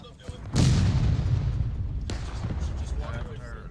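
Artillery cannon fire in the War of Rights video game, a heavy boom followed by rolling rumble and a second sharper distant report, mid-distance with ongoing battlefield noise.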